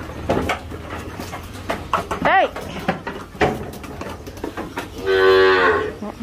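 Cows moo as they are herded along with goats toward a cornfield on a rural farm. Several loud, near moos ring out, one long drawn-out call near the end, over footsteps, rustling and other animal noises.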